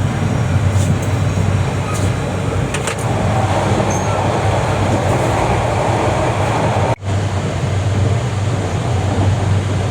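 Inside an air-conditioned coach of the Suborno Express running from Dhaka to Chittagong, a loud, steady rumble of the moving train fills the whole stretch, with a brief dropout near the end.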